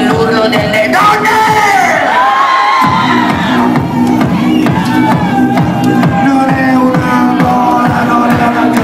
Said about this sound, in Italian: volevamo sentire l'urlo delle donne.